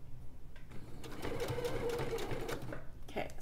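A sewing machine stitches a crossbody bag in a steady fast run of close, moderately loud mechanical whirring and needle chatter, starting and stopping briefly at the edges with no talking.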